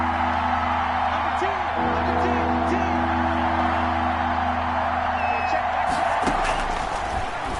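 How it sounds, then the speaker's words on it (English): A stadium crowd in a football video game rises into a steady roar before a big third down, a continuous wash of cheering under a commentator's voice. "the crowd getting into it as we come up on a big third down"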